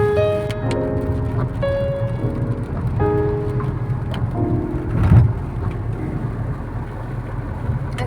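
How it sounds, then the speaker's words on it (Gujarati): Heavy monsoon rain falls outdoors around Junagadh as clouds gather overhead. It makes a steady, dense wash of noise throughout, with a few brief tonal sounds and a louder swell near the middle, and no one speaking. "બહુ વરસાદ પડે ભાઈ બહુ વરસાદ પડે"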